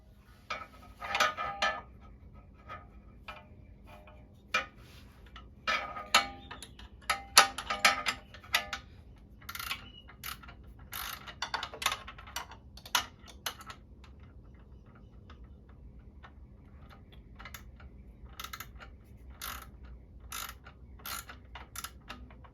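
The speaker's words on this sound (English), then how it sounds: "Especially if you got a socketed one or a ratcheting wrench." Ratcheting wrench working on a bolt during a custom exhaust install on a 2022 CFmoto 650 Adventura motorcycle, irregular bursts of sharp clicks and ticks clustered in quick runs with pauses, close and moderately loud.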